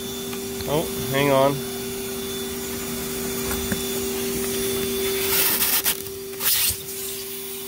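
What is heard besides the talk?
shop vac running inside an insulated box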